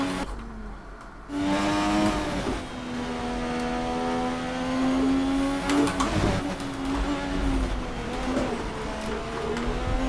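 Formula 1 race car engine in F1 2020 holds a high, buzzing whine that rises and falls with throttle through a corner, loud and steady for most of the stretch after a quieter opening moment.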